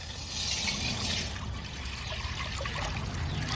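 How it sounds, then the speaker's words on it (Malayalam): Water pours steadily into a metal pot for cooking sago, a continuous splashing trickle, close and fairly quiet, with no talking. "വെള്ളം ഒഴിച്ചു കൊടുക്കുക"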